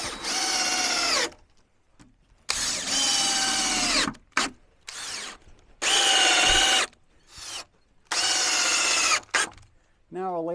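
A power drill drives screws into lumber shelf boards for a workbench, running in four long bursts that each ramp up and sag in pitch, with short clicks and handling knocks in the pauses between.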